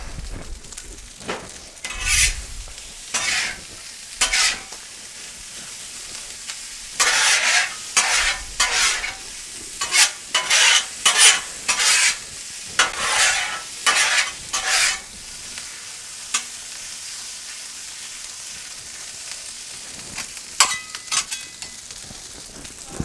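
Hibachi-style food frying on a Blackstone griddle, with a steady sizzle broken by bursts of loud metal spatula scraping and clattering across the flat-top, close by and without talk.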